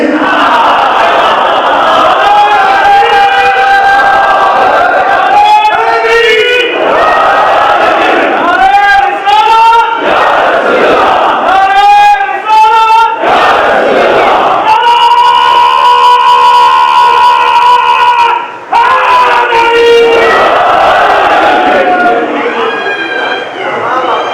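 A large crowd at a Muharram majlis gathering chants religious slogans loudly and continuously in rhythmic, sustained call-and-response waves over amplified sound.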